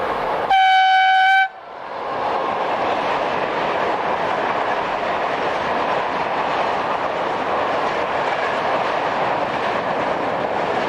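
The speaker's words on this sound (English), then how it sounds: "Heading in a westbound direction is 633239 on a trainload of steel coil." Westbound freight train carrying steel coil passes near Chivasso, east of Turin in Italy, opening with a loud, steady horn blast of about a second, then a continuous close rumble and rolling roar of wagons going by.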